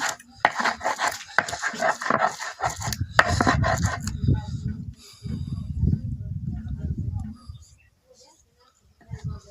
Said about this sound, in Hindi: इसीलिए इसको पत्थर के ऊपर ही रगड़ना पड़ता है।